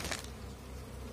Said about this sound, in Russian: вот из разных семей пчелы работают на один магазин